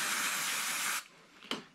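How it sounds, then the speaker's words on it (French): Brake cleaner sprays from an aerosol can onto a cloth during Yamaha YBR 125 fork maintenance, a loud steady hiss lasting about a second before cutting off, followed by a short second puff. "vous prenez un chiffon, vous pulvérisez dessus du nettoyant frein"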